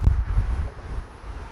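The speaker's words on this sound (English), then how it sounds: "I apologize for this wind." Gusty wind buffeting the microphone in a garden, a loud low rumble in bursts at first that eases into a steadier, softer roar.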